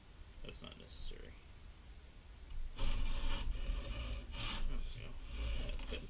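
A hand saw cuts through knotty scrap wood in a pattern-making shop, its rasping strokes quiet at first, then louder and steady, with someone talking over the sawing.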